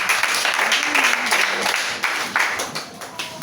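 Church congregation applauding during a French-language sermon, a steady wash of clapping that holds for several seconds with a few louder swells, and a faint voice murmuring underneath.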